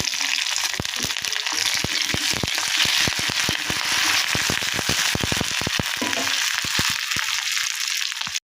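Onions and fresh curry leaves sauté in a pan for coconut chutney, making a loud, dense hiss of frying with rapid crackles and pops throughout that cut off abruptly at the end.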